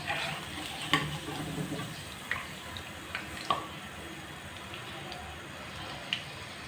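Chicken Chinese pakoras deep-fry in hot oil with a soft, steady sizzle. Occasional pops and light clinks of a utensil sound close by, with no talking.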